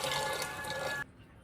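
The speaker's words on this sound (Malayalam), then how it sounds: "മസാലയിലേക്ക് വെള്ളം ചേർത്ത്" Water is poured into chicken masala in a pan for rice: a brief, steady rush of liquid that stops abruptly after about a second, quiet and close.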